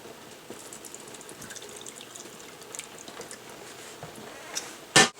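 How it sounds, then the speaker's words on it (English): Frying oil poured off a pot of fried meatballs and sausages into a bowl, a faint steady trickle running alone for several seconds before a short, louder splashy burst at the end. "so I'm going to pour off the oil into a bowl."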